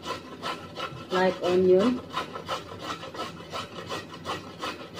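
Carrots being grated for a pasta salad, a steady rhythmic rasping of repeated strokes up close, with a brief voice cutting in partway through.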